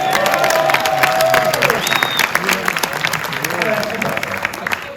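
An audience at a Superman Day guest panel at Warner Bros. Studios claps and cheers, a dense burst of applause with whoops and shouts that tapers slightly over several seconds.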